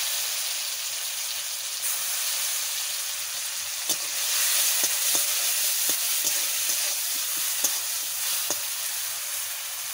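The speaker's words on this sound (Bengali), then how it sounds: "আমি সর্ষের তেল দিয়ে দিচ্ছি। আর অল্প একটু তেল দেব, রসুন বাটা আমি দিয়ে দিচ্ছি।" Garlic paste sizzles in mustard oil with a bright, continuous hiss, growing slightly louder midway, with scattered light taps of stirring.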